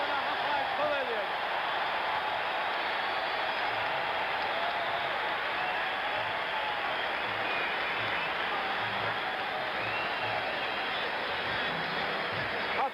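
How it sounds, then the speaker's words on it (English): A packed crowd roars continuously in the Hawkeye Pavilion during a timeout in a 1975 Celtics–Rockets playoff basketball game, a dense, unbroken arena din heard on an old broadcast recording. "Listen to this crowd in the Hawkeye Pavilion."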